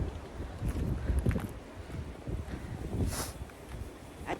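Cold, strong wind gusting outdoors in winter Zurich, a steady rumbling buffet that swells and eases with brief brighter rushes, close and fairly loud with no voices.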